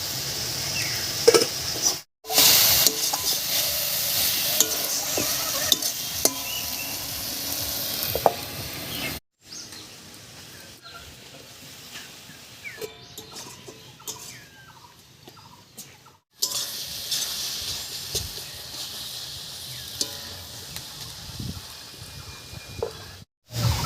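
Tomato and dried fish curry with garlic leaves stirred in a covered pot, steady loud sizzling with intermittent scraping and clanks of the lid and spoon, brief silent gaps between bursts.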